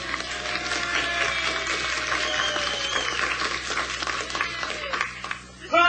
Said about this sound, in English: Everybody clap like this.